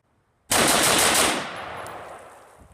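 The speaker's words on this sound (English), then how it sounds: "Okay, so we did a 5-shot burst." A rifle fires a rapid burst of gunfire through a Tac Con or Wilson Combat 3-gun trigger, starting abruptly after a brief silence as a dense, loud blast that tails off into echo. No one speaks.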